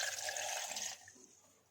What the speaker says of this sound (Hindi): 2 गिलास इसमें हम पानी ऐड करेंगे।